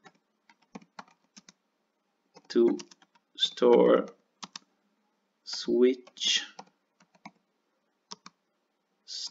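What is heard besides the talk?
typing on a computer keyboard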